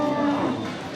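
A cow at a busy cattle market lets out a single loud, close moo that holds steady and then fades, over a background of crowd noise.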